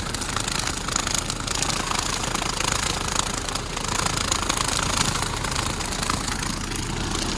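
A heavy Lovol 504 tractor engine, running with a potato haulm mower, drones continuously with a rough, rattling mechanical roar, steady and loud throughout with no pauses.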